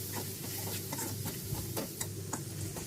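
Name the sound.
ginger-chili paste, turmeric and curry leaves frying in pan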